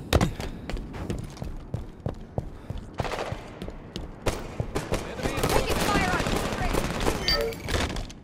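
Rapid gunfire and grenade blasts in a Halo 5 multiplayer match: sharp, repeated cracks and bursts in uneven clusters, building into denser fire, with players talking over the action.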